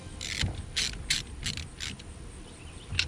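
A ratchet wrench tightens 13 mm bolts on a Chevy Duramax diesel engine, delivering several quick clicking bursts in an irregular rhythm, close and moderately loud with no talking.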